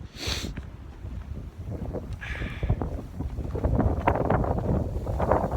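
Winter wind buffeting the microphone outdoors at a cattle farm, a steady low roaring rumble with gusts that swell louder toward the end, with no voices.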